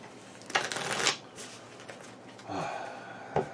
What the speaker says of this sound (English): And then we shuffle.